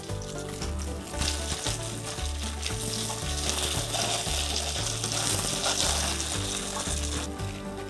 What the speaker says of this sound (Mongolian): Шарна.